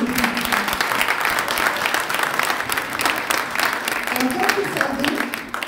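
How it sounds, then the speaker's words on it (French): Audience applause at an award ceremony in Brussels, dense steady clapping from a crowd that carries on evenly throughout. "Est-ce qu'on peut s'applaudir"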